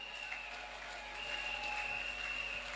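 A church congregation at a 30th-anniversary celebration applauds the Lord, a steady wash of clapping that holds at an even level, with a sustained musical tone beneath it.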